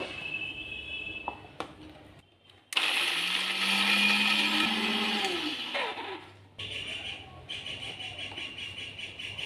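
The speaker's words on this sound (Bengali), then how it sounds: "আর দেব এক চামচ পোস্ত আর দেব বাদাম তোমরা চাইলে কাজু বাদামও দিতে পারো এবার এই সব কিছুকে ভালো করে বেটে নেবো" Electric mixer-grinder blending poppy seeds and peanuts into a spice paste for a raw hilsa fish curry, a loud steady whirring grind lasting several seconds with a rising, shifting pitch, bracketed by quieter motor hum and clatter.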